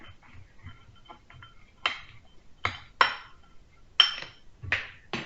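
Leftover breakfast taco food being mixed in a pan, with a spoon clinking and scraping against metal in irregular strikes, several sharper clanks standing out, fairly close and moderately quiet.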